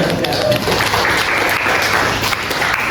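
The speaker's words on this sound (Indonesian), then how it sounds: "Tepuk tangan untuk" Applause in a classroom or meeting room, continuous close clapping from a group lasting a few seconds.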